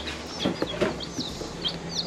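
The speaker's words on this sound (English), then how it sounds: "here is all 8 chickens in their little brooder here" Eight young chickens clucking and peeping close by in a brooder, a series of short, busy calls and chirps scattered over a faint background hum.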